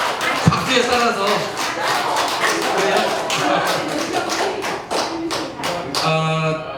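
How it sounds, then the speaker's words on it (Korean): At a citizens' forum general assembly, an audience claps loudly and steadily in support of a candidate, sustained applause with a few voices mixed in near the end. "이경식 후보를 지지하는 분 박수를 한번 좀 보내줘 보세요"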